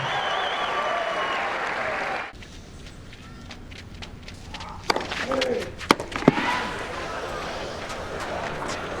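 Tennis crowd at the Rio Open cheering a young Canadian player, loud applause that drops off abruptly, then a quieter arena with scattered sharp claps, knocks and footsteps, and talk over it.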